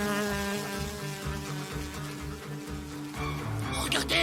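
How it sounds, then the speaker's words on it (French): A cartoon mosquito drones with a steady, high, close buzz that holds for several seconds and wavers slightly in pitch, with a voice briefly breaking in near the end. "Regardez, un moustique!"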